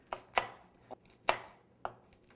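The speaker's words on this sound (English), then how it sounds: "taking my chef's knife, I'm simply going to start slivering it." Chef's knife slivering kale leaves on a cutting board, five or six crisp close chops at an uneven rhythm, with quiet pauses between them.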